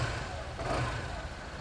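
A Shineray Urban 150 motorcycle engine idles and revs briefly, a steady close mid-pitched engine drone with a slight rise in the middle.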